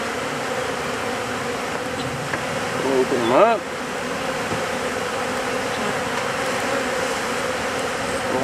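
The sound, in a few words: honeybee swarm buzzing in hive box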